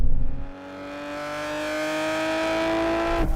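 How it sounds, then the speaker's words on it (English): A Nissan GT-R exhaust revs steadily, its engine note holding a rising, droning pitch, loud and close, with a sharp blip near the end. "the thing I like the most is just the noise from this exhaust"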